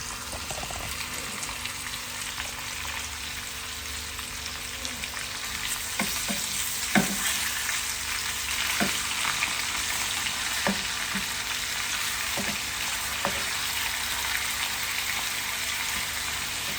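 Chicken pieces sizzle steadily in a hot pan, with a few sharp clinks and scrapes as pieces are turned over partway through.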